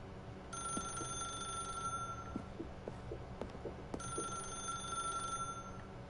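A telephone rings in The Stanley Parable Ultra Deluxe video game. Two faint bursts of ringing come with a pause between them, with no speech.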